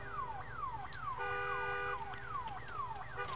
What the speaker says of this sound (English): Turn the fucking car alarm off.